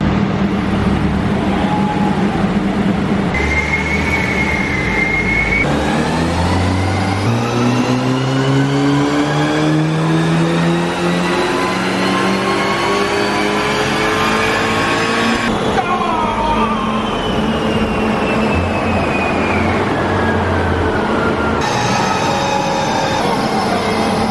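A Mk5 VW Golf GTI, warmed up with fans running, revs hard on a rolling-road dyno, engine note climbing through the gears in long sweeping pulls, loud and continuous, with no talk.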